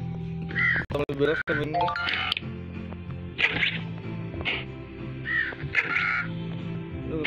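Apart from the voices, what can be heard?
crows cawing in the video game Survival Craft 2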